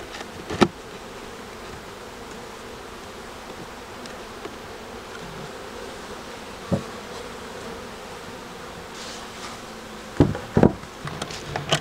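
Honeybees from a swarm buzz steadily on hive frames while being condensed into a single box for winter. The dense hum runs without a break, with a few sharp knocks and clicks near the end and no talking.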